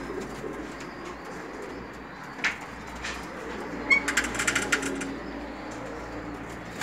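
Male Aslanbaş fancy pigeon cooing nearby in a loft, low soft coos over a quiet background, joined partway through by a brief burst of fluttering and small rustles.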